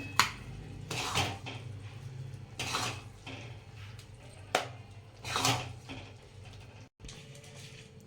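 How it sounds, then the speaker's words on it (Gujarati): Metal spoon scraping and clinking against a pan as rajgira (amaranth flour) sheera is served into a bowl, several distinct clanks and scrapes over a low background hum. "હવે આપણે બાઉલમાં કાઢી લઈએ"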